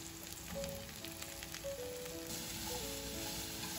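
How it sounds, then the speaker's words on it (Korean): Onion and zucchini stir-frying in garlic-infused oil in a home kitchen pan, a steady soft sizzle with faint stirring, moderately quiet and alone. "은은하게 올라온 마늘기름에 양파가 투명해질 때까지 볶다가 애호박을 듬뿍 넣어줍니다"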